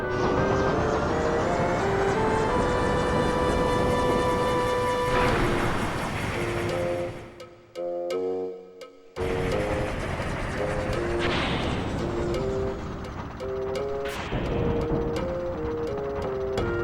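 Train from Final Fantasy IX rumbles steadily under looping game music. A brief dip partway through is followed by the rolling noise resuming, with occasional sharper clanks.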